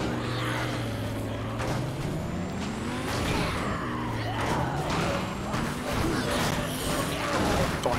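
A Lamborghini driven in the zombie game Dead Rising 3, with a continuous engine drone rising and falling in pitch, mixed with skids, scrapes and thuds of impacts in a busy, dense mix.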